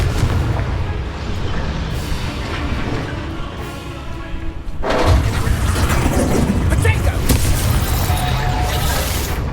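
A Confringo spell blast in the video game Hogwarts Legacy, heavy booming rumbles and explosive bursts layered with game combat noise, with a louder surge of impacts in the second half.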